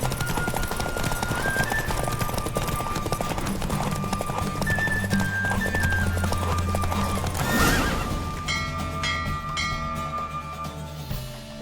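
Close hoofbeats of a horse galloping in a race in The Witcher 3 run under game music with a neigh and bell tones, the rapid clip-clop rhythm stopping near the end.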